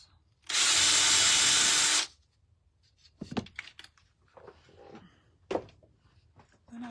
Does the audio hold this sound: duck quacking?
no